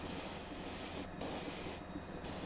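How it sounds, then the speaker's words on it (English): Spray paint hisses steadily from an aerosol can during a live painting session, a continuous close broadband spray broken by two brief pauses. "it starts, you know, getting lighter as you spray"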